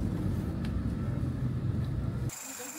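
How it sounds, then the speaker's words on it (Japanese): A tour bus idles and rumbles nearby at night with a low steady engine drone, cutting off abruptly near the end to reveal quiet ambience. "ツアーバスがホテルまでお迎えに来てくれます。"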